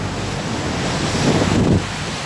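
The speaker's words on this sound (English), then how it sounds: "Very windy here today" Strong gusting wind roars across the microphone in a continuous rumble, swelling briefly before settling back.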